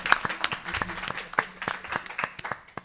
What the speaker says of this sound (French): je pense qu'on peut applaudir ce joli discours